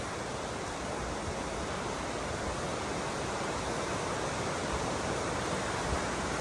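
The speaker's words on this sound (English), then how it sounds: "this creek flowing through the property is Little Jones Creek" Little Jones Creek, a clear, cold creek feeding the Smith River, runs steadily nearby with a dense, even rush of flowing water and no voices.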